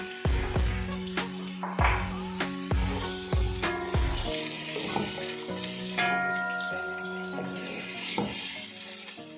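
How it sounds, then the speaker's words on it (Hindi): Onions browning in about two to two and a half spoons of hot oil for yakhni pulao, a loud steady sizzle with repeated sharp stirring knocks of a spoon against the pan, close up and without talk. "ऑयल गर्म हो गया है, इस पर अपना प्याज डाल दूँगी और डाल के ब्राउन कर लूँगी।"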